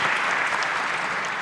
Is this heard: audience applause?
yes